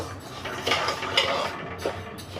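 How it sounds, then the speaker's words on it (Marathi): Rice grains dry roasting in a pan for a Diwali chakli bhajani flour mix, giving a soft rustling scrape with a few brief clinks of a spoon against the metal, moderately close with no talk. "आता आपण तांदूळ भाजतो"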